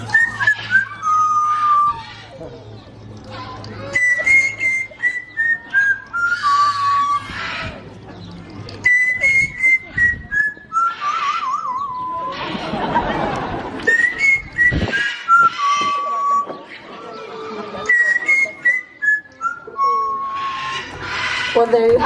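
A bird at a zoo in Ontario, Canada whistles a tune in repeated bright, sliding phrases, clear and close, with a short burst of noisy rustle midway.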